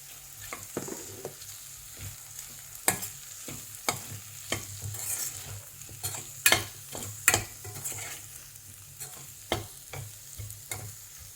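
Potatoes and spices for a capsicum potato masala fry in a pan, with a steady sizzle under repeated sharp scrapes and clacks of a spoon stirring against the metal.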